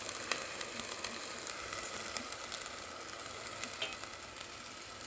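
Red chili powder and onion masala fry in hot oil with a close, steady sizzle and crackle, with faint scraping stirs throughout.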